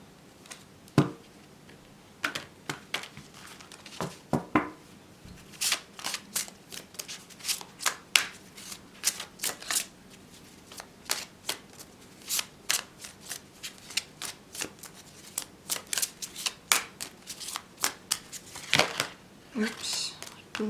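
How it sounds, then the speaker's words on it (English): Repeated crisp riffling and snapping of a tarot deck being shuffled up close, in irregular bursts with small taps between. "Just give me a few seconds to shuffle the cards."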